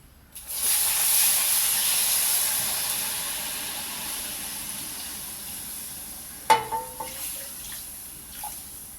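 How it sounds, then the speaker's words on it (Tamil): Liquid is poured into a hot pan while fruit halwa is cooked, setting off a sustained loud hiss and sizzle that slowly fades. Later there are a few sharp clinks and spatters. "இப்போ வந்து இதை ஊற்றிக்கலாங்க, கொஞ்சம் கொஞ்சமாக ஊற்றிக்கலாம்"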